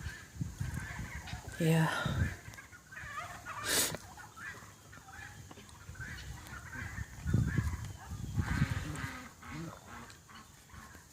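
Mallard ducks and other fowl call in scattered honks and quacks at moderate distance, mixed with wind and brief speech nearby.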